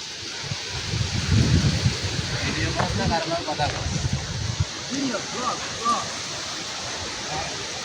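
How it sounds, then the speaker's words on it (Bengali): A sudden whirlwind storm sends strong gusts of wind buffeting the microphone with heavy, low rumbling. Rustling fills the background, and voices talk in between. "কি পরিমাণ বাতাস!"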